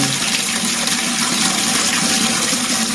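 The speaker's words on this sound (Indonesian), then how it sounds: "saya isi airnya dulu. Saya menggunakan air dari pegunungan, ini dari keran." Steady rushing mountain water pours continuously from a tap into a container, with a full, even hiss throughout and no voices.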